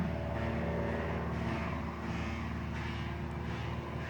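An airplane passes overhead above a garden, a steady, fairly loud engine drone that holds throughout with no talking.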